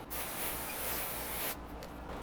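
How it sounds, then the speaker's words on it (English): Water sprayed in a steady broad hiss onto a ceramic-coated car hood during a coating beading test, continuous and close, then a brief drop in level near the end with no talk. "We're going to just spray this down"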